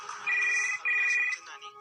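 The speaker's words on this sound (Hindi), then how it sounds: "जब घर का लैंडलाइन बजा" A landline telephone rings twice in quick electronic trills, clear and fairly close, with a brief gap between rings.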